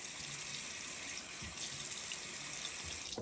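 A tap runs in a steady stream into a sink while water is added to shaving lather, continuous and close, with no speech.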